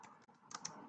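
A few faint keystrokes tapped on a computer keyboard in quick succession, soft and close in a quiet room.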